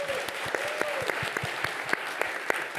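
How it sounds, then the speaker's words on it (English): Round of applause at a tech summit for the organizers and volunteers, a modest audience clapping steadily with a few sharper individual claps standing out nearby. "Can we get a round of applause for everybody?"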